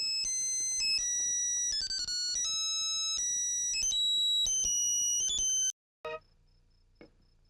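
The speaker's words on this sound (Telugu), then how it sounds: "సార్ డార్లింగ్ గారు ఫోన్." A phone rings with a loud electronic melodic ringtone of stepping tones for several seconds, cuts off, then a couple of short faint tone fragments follow.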